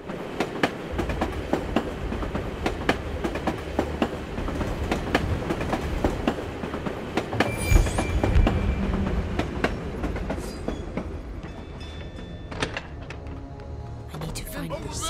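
A video game tram rolls along rails with a steady clickety-clack rhythm and rumbling wheels, a continuous mechanical clatter that stays loud throughout.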